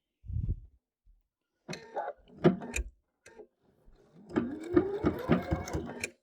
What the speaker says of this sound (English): I actually find it easier to sew looking at the inside of my bag and just holding it like that